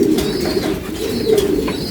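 A pigeon coos in a low, steady, rolling murmur that carries on without a break for about two seconds. It is fairly close and clear, with no voices over it.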